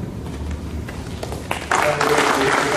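An audience at a Nepes company new-year ceremony and award presentation bursts into applause. Scattered claps grow into a dense, loud burst of clapping that continues to the end, with a voice speaking faintly beforehand.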